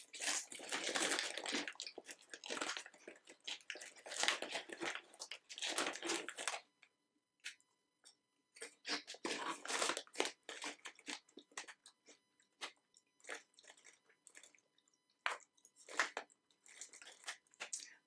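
Crinkly plastic snack bag being opened, then sour cream and onion straws crunched and chewed close up, with a dense burst of rustling and crunching followed by sparser bites and chews.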